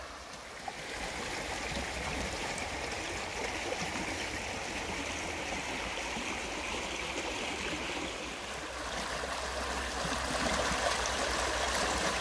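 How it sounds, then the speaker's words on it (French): A small stream flowing beside a camper van stop in nature, a steady, close rushing and trickling of water that stays constant throughout with no talk. "Il y a un petit ruisseau qui passe, qui est super apaisant"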